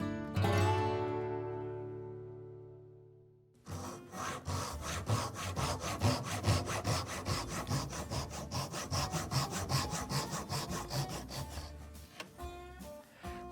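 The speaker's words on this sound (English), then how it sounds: "I'm using the David Barron Dovetail Guide, which helps me with my sawing" Hand-sawing dovetails in wood with a David Barron dovetail guide: a short ringing strike first, then a long run of steady, rhythmic back-and-forth saw strokes, close and clear.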